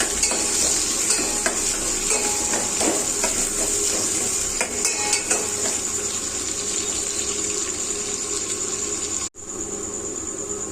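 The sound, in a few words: chopped onion, cumin and mustard seeds frying in oil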